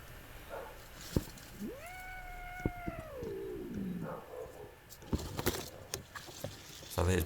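A cat under a bougainvillea gives a single drawn-out meow lasting about two seconds, clear and fairly close, set against quiet outdoor ambience with scattered rustles and light taps before and after.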